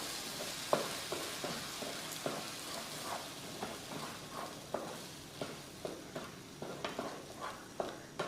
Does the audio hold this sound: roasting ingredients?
yes